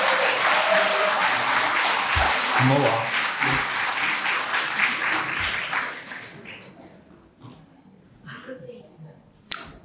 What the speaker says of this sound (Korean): 감사의 박수.